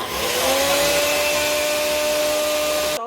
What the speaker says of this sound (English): So I've just put it in the NutriBlender and do it until